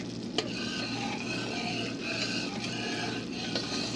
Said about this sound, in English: I'm gonna have it simmer like this for about 5 minutes